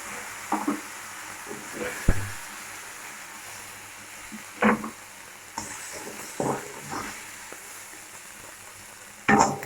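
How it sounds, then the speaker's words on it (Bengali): Food fries briefly in hot oil in a pan. Quiet sizzling carries through, broken by scattered scraping and stirring clatters spread over several seconds, with no voices. "হালকা একটু ভেজে নিয়েছি, আমরা তুলে নেবো।"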